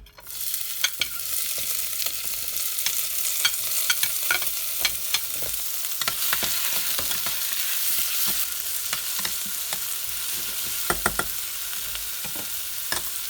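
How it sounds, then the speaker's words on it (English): Onion frying in a couple of tablespoons of vegetable oil for a vegetarian maqluba rice dish, a steady close sizzle with frequent crackles and stirring clatters throughout, no voices. "I'm going to add like 2 tablespoons of vegetable oil, and I'm going to start frying the onion first"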